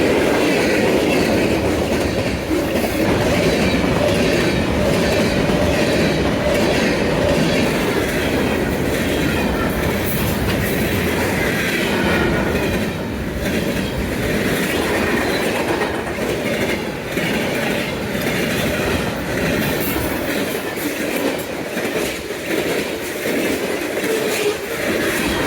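A BNSF train rolls past on the Hinckley Subdivision, a loud continuous rumble with steady clickety-clack of wheels over rail joints lasting throughout, close by and fading slightly toward the end.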